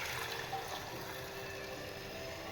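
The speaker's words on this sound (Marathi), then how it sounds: "आता याच्यामध्ये मी हे 3 पट पाणी घेतलं आहे, ते मी आता याच्यामध्ये टाकते" Water is poured into a pan for varai upma, a steady, moderately faint rushing pour running continuously.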